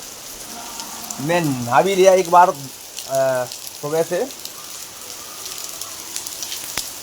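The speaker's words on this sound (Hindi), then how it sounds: "आज सुबह सुबह से बारिश हो रही है हमारे यहाँ" Steady rain falls across a village, a broad continuous hiss running the whole time beneath a voice speaking in bursts near the start and middle.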